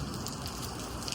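Steady rain patters on a surface during a snow storm, a dense, even hiss with no talk.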